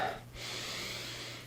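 A person doing steady, deliberate calming breaths while seated on the edge of a bed, just woken and tired; a sharp inhale is followed by a long, breathy exhale, close and alone with no talk.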